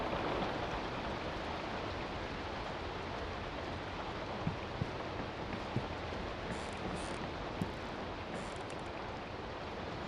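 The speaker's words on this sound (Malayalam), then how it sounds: "പുറത്ത് നല്ല കൊടും മഴയാണെന്നുണ്ട്" Heavy rain in the horror video game Shelley Manor pours in a dense, unbroken roar, with a few faint clicks scattered through it and no voices.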